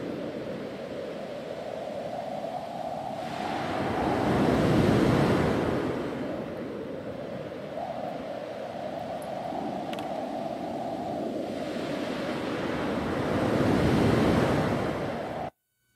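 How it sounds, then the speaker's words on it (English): Ocean waves roll and wash in broad swells alongside gusting wind, the surf building louder twice, with no voices. "So, did you hear some waves, some wind, maybe?"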